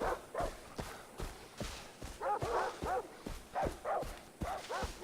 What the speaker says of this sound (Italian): Senti sti cani de merda